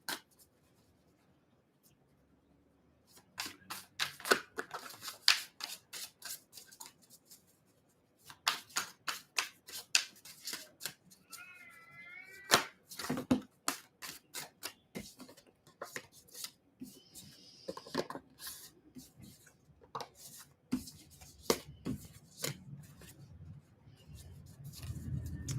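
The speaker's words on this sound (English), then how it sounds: "as I'm shuffling the cards for Taurus" Tarot cards being shuffled, a dense run of quick papery riffles and flicks with short pauses, close and fairly quiet, with no talking.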